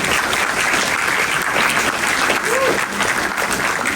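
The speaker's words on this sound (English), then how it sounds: "please give yourselves a round of applause for making this movie happen" A packed theater audience at a New York screening of the film Shelby Oaks gives loud, continuous applause, a thick unbroken wash of clapping that fills all four seconds.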